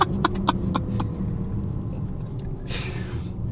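A Mercedes GLC 43 AMG pulls hard between third and fourth gear, with a deep continuous engine rumble under a few sharp transient pops early on, then a brief hiss of noise late.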